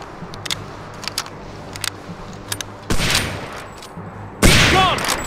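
Gunfire in the video game Hidden & Dangerous 2: scattered sharp shots early on, then two louder bursts of weapon fire on an arctic battlefield, with no speech over them.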